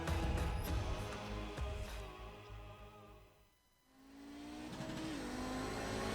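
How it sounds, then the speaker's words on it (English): Audi GT race car on a lap of Sonoma Raceway, engine revving hard and near, with a gear change and a dip in the middle before the motor climbs again into a sustained high-revving drone. "we're in the GSRC Audi, so let's do a lap around Sonoma"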